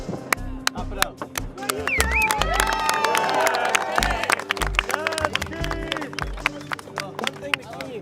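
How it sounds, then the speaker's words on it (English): An audience at an evening event claps and cheers together, a dense sustained wash of applause and whoops that stays loud throughout, with crowd babble mixed in. "Clap it up."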